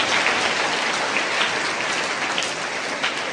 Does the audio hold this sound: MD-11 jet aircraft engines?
no